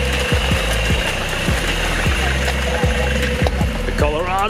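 A Toyota Hilux 4WD on 33-inch tires with a lift kit and an aftermarket exhaust churns through deep forest mud, its engine note steady and throaty with repeated thumps and sloshing. Voices are faintly present.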